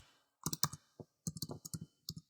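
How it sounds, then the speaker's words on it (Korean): Typing on a computer keyboard: quiet, close clicks of keystrokes in quick bursts separated by short pauses, with no talking over them. "지금 여기에 있는 요 예제처럼 우리가 타이핑을 해요"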